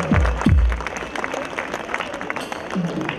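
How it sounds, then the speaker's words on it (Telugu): Audience applause at a company family day event held at a water park, a scattered patter of clapping after a couple of heavy thumps at the start, moderately loud and fading slightly. "Please put your hands together."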